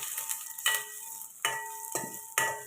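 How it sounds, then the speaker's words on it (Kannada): Onion, cumin and curry leaves fry in a pan for majjige huli. Faint sizzling is broken by several sharp stirring clanks, with no voices. "ಈರುಳ್ಳಿ ಒಂದು ಸ್ವಲ್ಪ ಕಲರ್ ಚೇಂಜ್ ಆಗೋವರೆಗೂ ಫ್ರೈ ಮಾಡ್ಕೊಳ್ಳೋಣ"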